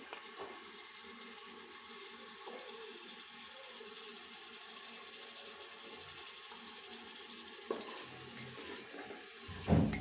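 Chopped potato being stirred into hot oil in a pan for masala bhaat, a steady low sizzle running throughout, a faint clatter near the end.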